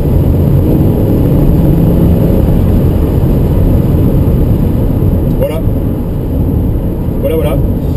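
A 1966 Ford Mustang V8 coupe on a road test, its engine giving a steady, loud, continuous drone from inside the car with no pauses, the rumble holding even throughout.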